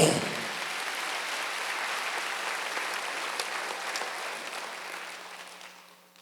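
A church congregation at a Wednesday worship service claps together, a full even round of applause that starts sharply, holds steady and slowly tapers off.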